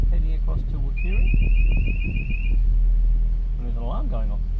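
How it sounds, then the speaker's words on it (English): A steady electronic alarm tone sounds for about a second and a half on a vehicle ferry crossing the Murray River, under wind and engine rumble with people talking nearby. "There's an alarm going off."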